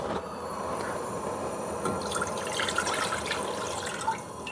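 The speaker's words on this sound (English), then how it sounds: "First, we start off with 2 cups of water." Two cups of water poured steadily into a pot for homemade cream of chicken soup, a continuous close splashing and trickling with no talk.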